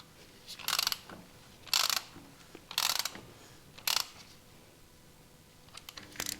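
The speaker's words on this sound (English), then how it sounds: "take a ratchet and a socket, turn the engine over manually" A ratchet and socket turn over the engine of a 33-year-old Honda Goldwing motorcycle during a cam belt change: four crisp bursts of rapid ratcheting clicks at roughly one-second intervals, close up, then a couple of faint clicks.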